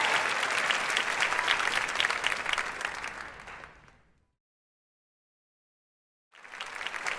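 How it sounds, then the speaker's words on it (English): Audience applause for a singer at a live show at The Theatre at Ace Hotel: a dense, steady wash of clapping from a large crowd that fades into silence, then swells back in near the end. "Please give her a hearty round of applause."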